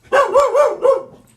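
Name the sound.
dog barking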